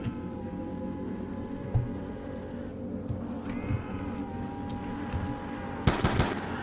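Gunfire in Call of Duty Zombies on the Town map: a steady wash of game noise and scattered thuds, then a loud, bright burst of rapid shots near the end.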